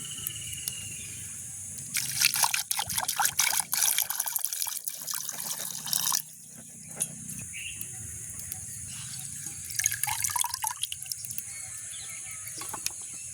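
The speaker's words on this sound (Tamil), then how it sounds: "நாங்கள் இந்த மாதிரி தண்ணியில் கழுவி எடுப்போம்." Water splashes and trickles in bursts as dried fish is rinsed by hand, with quieter pauses between and a bird faintly in the background.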